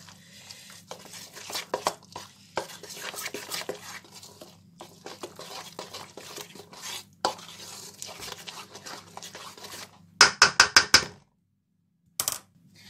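Cooked, cooled lentils are stirred into a vegan lentil and red cabbage bhaji mixture in a bowl, giving soft irregular scraping and patting with a burst of sharper utensil clinks near the end.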